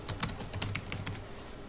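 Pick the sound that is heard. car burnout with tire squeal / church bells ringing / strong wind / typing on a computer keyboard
typing on a computer keyboard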